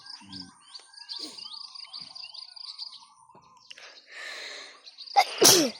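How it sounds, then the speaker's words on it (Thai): A cameraman lets out one sudden, loud sneeze near the end, outdoors beside freshwater fish ponds with caged catfish, tilapia and snakeskin gourami, after several seconds of birds chirping and insects buzzing. "อ้าวตายตากล้องจามไปแล้ว"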